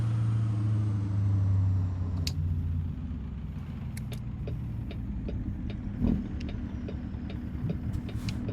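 Heavy truck engine rumbling in a driving video game, a steady low drone that shifts pitch early on, with scattered clicks and ticks over the constant hum.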